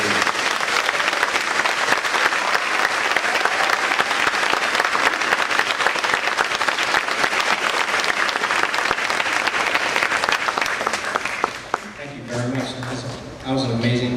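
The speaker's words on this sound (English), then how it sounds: "gave them a big shout out, round of applause, of thanks for all that they did" Sustained, loud applause from a large audience at an elementary school D.A.R.E. graduation ceremony, steady clapping that thins out near the end as a few voices and music-like tones emerge.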